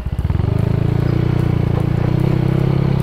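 A Yamaha Mio with a new 150cc engine fitted with Sonic valves, still being run in, revs close up in a loud, steady, rapid putter.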